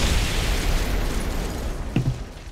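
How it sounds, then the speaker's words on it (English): A War Thunder game explosion: a low rumbling blast, then a short sharp pop near the end over continuous engine-like background noise. "That was a very delayed explosion"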